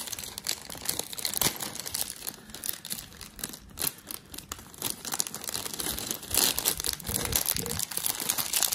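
Plastic packaging of a Blokees Champion Class Saint Seiya Aries Mu model kit being torn and opened, with dense close-up crinkling and rustling throughout, sounding alone without speech.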